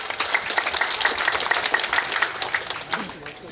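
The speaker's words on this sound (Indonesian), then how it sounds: "Tepuk tangan." A crowd at a political declaration event for a mayoral candidate pair in Gunung Sitoli claps in a rhythmic, evenly paced stream of handclaps that gradually fades, with faint voices beneath.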